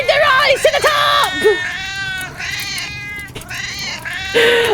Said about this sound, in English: So many cats.